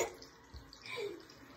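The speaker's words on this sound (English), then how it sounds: "She's washing her face." Tap water runs in a sink or tub while a girl washes her face during a skincare routine, a soft steady splash with faint shifting trickles, no voices.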